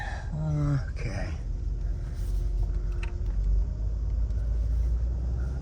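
Rare classic Mercedes car pulling away in first gear, with a steady low engine rumble throughout and a brief rising whine near the start, heard from inside the cabin.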